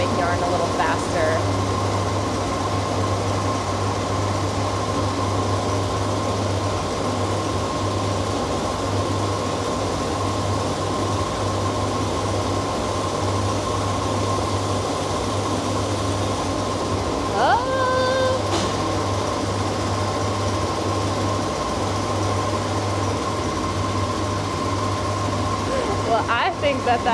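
A yarn spinning machine at a small mill runs steadily, filling bobbins with a continuous low mechanical hum and whir, with a few brief clanks and shifts partway through and no talking.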